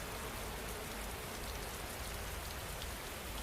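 Steady, dense rainfall patters evenly on surfaces in a continuous wash of drops, unchanging in loudness and fairly close, with no voices.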